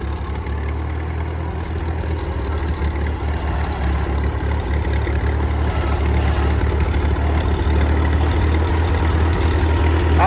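A 1955 International 300 Utility tractor engine runs loud and close at a steady idle, with a rough low rumble and uneven chuffing pulses from a leaking exhaust.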